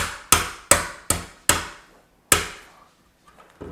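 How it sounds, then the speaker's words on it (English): A hammer taps lightly on a lock bolt piece during installation, giving five sharp metallic knocks in an uneven rhythm, then a pause and one more tap, each ringing briefly and fading, close and clear with no talking. "just kind of tap on it lightly with a hammer just to break through"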